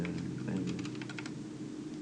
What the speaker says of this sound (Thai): คีย์บอร์ดอาจจะดังหน่อยนะฮะ พอดี มันเป็นคีย์บอร์ดใหม่มันเป็นบูสวิต